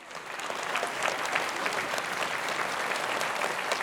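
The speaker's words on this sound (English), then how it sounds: "Why don't we give them a round of applause for supporting the program?" Steady applause from an audience at a multiple sclerosis patient program, many hands clapping evenly for about four seconds with no voices over it.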